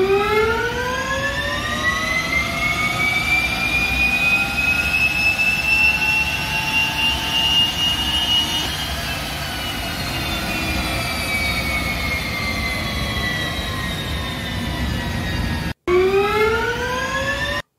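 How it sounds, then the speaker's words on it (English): A jet engine is spun up inside a workshop, producing a loud, close, continuous whine that climbs in pitch, holds steady, then dips before briefly cutting out and resuming. "how many people come rushing to the window to see why it is that we're starting a jet in the shop"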